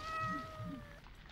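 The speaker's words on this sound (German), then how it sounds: "Da kommen kleine Katzen raus." Small kittens meowing in the video game Just In Time Incorporated: two short, high mewing cries in quick succession, fairly close and clear, with no talking.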